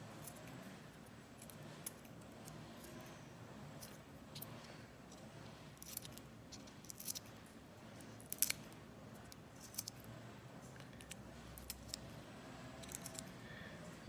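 Small scissors snipping excess material from a handmade miniature tire, a string of faint, quiet clicks and snips spaced irregularly over a soft background hiss.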